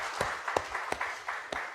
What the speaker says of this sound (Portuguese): Vamos aplaudir ao nome do Senhor.